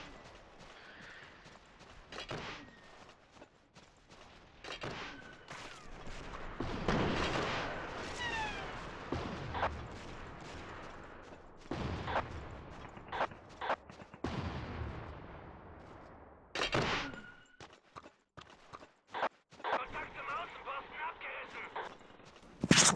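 Gunfire in a paratrooper battle in a war video game, with sharp shots and bursts scattered through a busy mix of explosions and game noise, under occasional voices.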